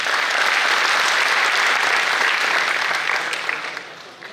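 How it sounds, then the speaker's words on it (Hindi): Loud, sustained applause from an audience at a trilingual poetry gathering held for a municipal corporation's anniversary, dense steady clapping filling the hall before thinning slightly toward the end, with no talk over it. "एक बार इनके लिए जोरदार तालियां हो जाए."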